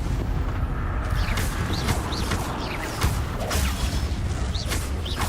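Bombarda spell explosions in the video game Hogwarts Legacy, several booming blasts at close range mixed with whooshing magic effects and a busy combat backdrop.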